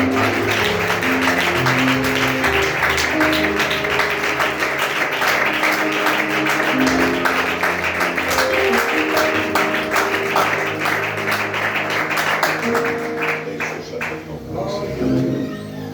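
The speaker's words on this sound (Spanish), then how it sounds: "Quiero oír un aplauso de adoración a su palabra" Worshippers at a church service clap along with sustained, steady applause while music plays underneath, the clapping continuous and moderately loud for most of the span before easing off near the end.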